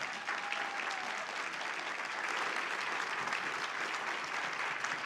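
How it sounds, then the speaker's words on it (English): Steady audience applause for Dr. J.P. Moreland at a special evening event, a continuous full wash of clapping for about five seconds with a faint tone briefly audible near the start. "Please, one more round of applause for Dr. Moreland."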